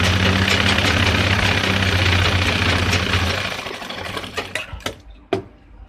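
Sewing machine stitching a seam on men's trousers: a steady rapid mechanical chatter that runs loud and close for about three seconds, then slows and stops with a few clicks and knocks.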